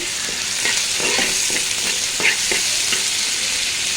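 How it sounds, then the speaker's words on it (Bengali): Ginger-garlic paste sizzles in a pan with softened onions while a spoon stirs and scrapes repeatedly, the hiss loud and steady throughout the short stretch. "আদা রসুন দেওয়ার পরে আমি কিছুক্ষণ নাড়াচাড়া করেছি"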